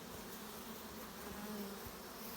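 Honey bees swarm around open beehives, making a steady, dense buzzing hum that fills the space evenly without pause.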